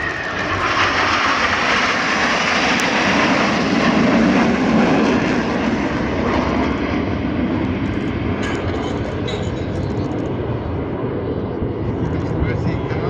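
Black Eagles jets flying in formation during a Singapore airshow opening display produce a loud, sustained roar that slowly fades, with commentary and spectators talking over it.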